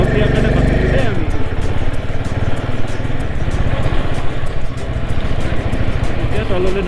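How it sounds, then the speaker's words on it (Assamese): A motorcycle engine runs steadily while riding down a high mountain road toward Khardung La in Ladakh, a loud continuous throb with wind rush and a voice talking over it. "মটৰচাইকেল চলাই আছে"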